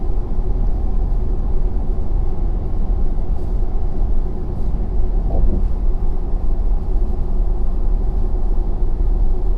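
A 2019 Ford F-350 Powerstroke diesel pickup crosses the MacKay Bridge between Dartmouth and Halifax, heard from inside as a loud, steady low rumble of engine and road noise, with no talk.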